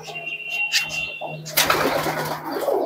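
Pigeons at a racing-pigeon loft coo softly in low, brief calls, with a bird chirp and people talking over them in the background.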